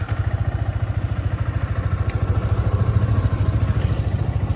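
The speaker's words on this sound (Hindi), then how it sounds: "एक बार आपको इसका एग्जॉस्ट नोट भी सुना दूँ बाइक का कैसा है" A Yamaha R15 v3 BS6 motorcycle idles close by, its exhaust note a steady, rapid pulsing thrum with a light mechanical clatter.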